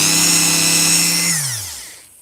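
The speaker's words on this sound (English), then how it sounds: "I'm going to start off with a Dremel, then we're going to move over to the rotary" A Dremel rotary tool polishing miniature parts whines loudly and steadily up close, then spins down over its last second into quiet.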